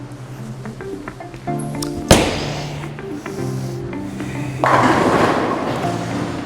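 A Radical bowling ball hits the lane with a sharp thud, rolls with a low rumble and crashes into the pins with a loud clatter, over alley background noise.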